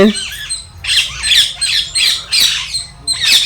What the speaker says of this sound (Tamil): கிளிங்க இப்படி ரொம்ப சத்தம் போடுது பாருங்க.